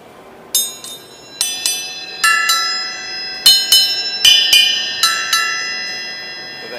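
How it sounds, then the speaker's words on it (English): Small handmade Turkish bell cymbals are struck one after another, about a dozen bright ringing hits in an uneven rhythm, each sharp attack followed by a sustained shimmering decay, close and clear with no talking. "These little bell cymbals."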